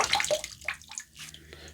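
Hot water squeezed out of a shaving brush over a cup, giving a few short splashing trickles and drips in uneven bursts with quiet gaps between, close up and without talk.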